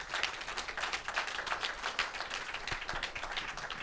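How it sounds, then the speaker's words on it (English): Audience applauds hackathon presenters at a PKI forum event, a moderate, steady patter of many hands clapping from a small room, fairly close and continuous for a few seconds. "let's give a round of applause to all the presenters"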